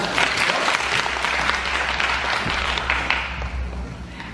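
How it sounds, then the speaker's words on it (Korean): Sustained applause from an audience, dense clapping filling the room at a steady loud level before tapering slightly. "박수 한번 주십시오."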